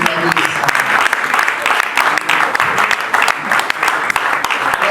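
Congregation at an evening gathering claps loudly for the pastor, dense sustained applause with a speaking voice over it.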